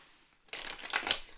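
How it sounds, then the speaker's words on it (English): A deck of cards is shuffled once, a short riffling burst that starts after a brief quiet moment and sounds close and soft. "let me just shuffle this deck."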